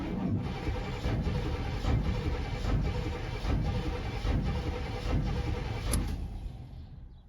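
An old truck engine cranking: the starter churns in a steady rhythm of repeated heavy pulses for several seconds without catching, loud and close, then cuts off.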